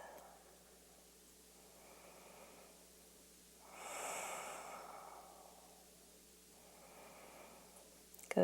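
A person in a yoga stretch draws slow, airy breaths close by, a few soft inhales and exhales with one fuller, louder breath in the middle, and no talking.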